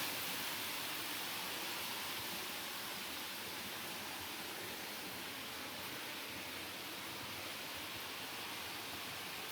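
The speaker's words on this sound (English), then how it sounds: "The sound of the water flowing over the rocks is" Water flowing over rocks in a stream in Colombia, a steady, even rush of broadband noise that stays constant and fairly soft throughout, with no voices.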